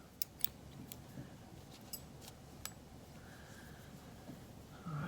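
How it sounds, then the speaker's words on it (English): Faint scissors snip a few times at irregular intervals, small sharp clicks over a steady background hiss at a craft table while making tags. "Scissors."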